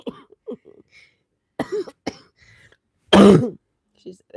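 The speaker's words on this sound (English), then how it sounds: "what do you rate my cough?" One loud, harsh cough bursts out close to the listener between short stretches of a person's casual talk.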